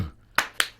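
Two sharp claps ring out about a fifth of a second apart, close and alone, like the clap half of a stomp-clap rhythm.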